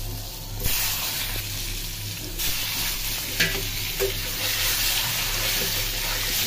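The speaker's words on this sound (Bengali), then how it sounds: "এই যে ডিমগুলো ভেজে নিই তেলে।" Eggs frying in hot oil in a pan on an electric stove, a steady soft sizzle and stirring noise over a low background hum, with a few faint clinks and no talking.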